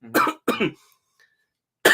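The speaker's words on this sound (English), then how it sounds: "I'm still recovering from my cough" Two sharp, close coughs in quick succession, then a pause and the start of a third.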